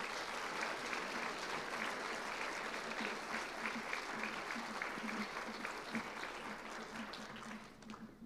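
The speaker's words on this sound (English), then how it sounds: "Let's give them another round of applause." A youth citizenship awards audience applauding, steady dense clapping that carries on for several seconds and tapers off slightly at the end.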